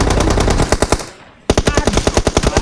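Rapid bursts of automatic gunfire from a video game, loud and rhythmic, with a brief lull near the middle before the rattling volleys resume at full strength.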